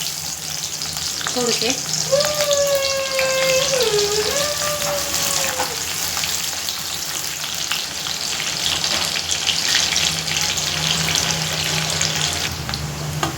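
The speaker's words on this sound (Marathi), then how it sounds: "आता मी कांदे तळून घेते आधी" Onions frying in oil in a kadhai give a steady, close hiss and crackle through the whole stretch, while someone speaks briefly over the sizzle early on.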